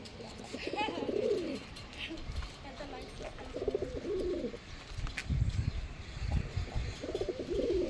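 Kaldom pigeons, a paired male and female, coo in low repeated bursts close by, with some background noise and occasional rustling between the calls.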